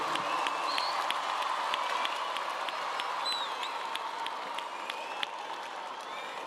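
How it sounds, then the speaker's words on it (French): Audience applauding at a bird of prey show by Les Aigles du Léman, a steady wash of clapping with scattered sharp claps throughout, moderately distant and continuous. "Là, vous pouvez applaudir si vous voulez"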